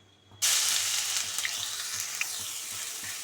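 Loud, steady sizzling of crushed ginger, garlic and green chili paste frying in hot oil, starting abruptly and continuing with a few small crackles and pops.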